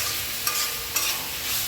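Pumpkin pieces stir-fried in a pan give a steady close sizzle, with two brief scraping stirs of a spatula and no voices.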